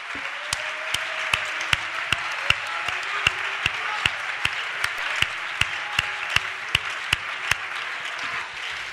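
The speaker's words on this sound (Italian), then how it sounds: "Vogliamo fare un applauso di lode al nostro Dio?" A church congregation applauds in praise to God during an Italian service, a steady wash of many hands with regular sharp claps cutting through at an even rhythm, moderately loud and continuous throughout.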